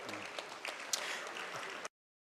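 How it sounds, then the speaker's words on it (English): Audience applause at a university academic and athletics award banquet, a steady wash of many hands clapping for almost two seconds before cutting off abruptly into silence. "another round of applause"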